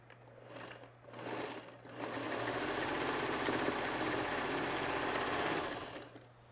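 A domestic sewing machine chain-sews small mini-charm quilt pieces, running in a steady continuous whir for several seconds after brief starts and stops, close and alone with no talking.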